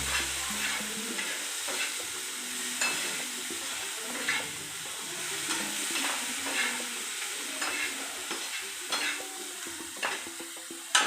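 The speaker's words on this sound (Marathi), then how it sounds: "याची फ्लेम कमी करायची आणि कमी फ्लेमवर ग्रेव्ही चांगली शिजून घ्यायची।" Egg tawa fry gravy sizzles steadily in a pan over a low flame, a continuous crackling hiss broken by occasional sharper spatters and light scraping, close and fairly quiet, with no voices.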